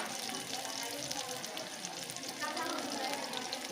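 Capsicum fries in a pan in a steady, hissing sizzle that runs throughout, fairly quiet, with a voice speaking over it.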